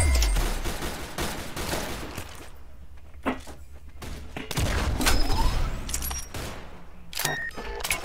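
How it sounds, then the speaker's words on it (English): Gunfire rings out in the Roblox shooter game Arsenal as bursts of sharp shots and rapid volleys, mixed with clanks and other game effects. The sound is dense and mid-level throughout. "I actually took somebody out by shooting them like that."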